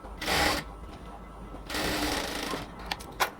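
A sewing machine stitches the shoulder seam of a band-collar dress in two short bursts separated by a pause, followed by a few faint clicks.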